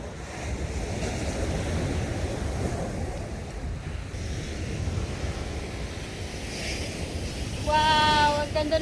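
Ocean waves washing onto the shore amid gusting wind noise, a steady low rumbling surf close by, with a brief whistle-like tone near the end and faint voices.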